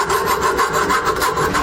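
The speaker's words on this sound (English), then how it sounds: "what I'm going to do is just kind of file this edge down" Hand file rasping along a freshly cut metal edge of a DeeZee truck bed auxiliary fuel tank installation, a steady continuous scraping with repeated strokes, close and fairly loud, no talking.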